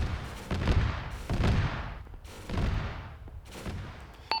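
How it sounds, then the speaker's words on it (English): Autocannon fire in a military video game arrives as four heavy, rumbling bursts spaced about a second apart, each fading into a booming tail, fairly loud and with no voices over it. "Oh, they're taking autocannon."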